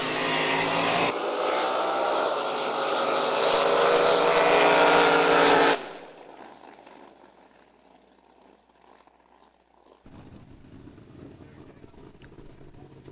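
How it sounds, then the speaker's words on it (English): A supercharged drag racing car with its blower popping at a 2023 San Angelo qualifying event gives a loud, dense roar for about six seconds, then cuts off to a faint rumble that swells back up near the end. "Terry Kane with that big old blower popping down there"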